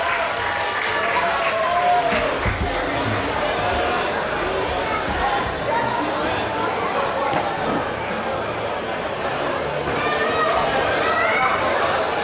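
A live audience gives a singer a dense, steady round of applause that holds for the whole stretch, mixed with crowd chatter and voices.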